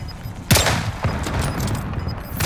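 Two sharp gunshots in a video game, a loud crack followed by a second shot about half a second later, over steady background game noise.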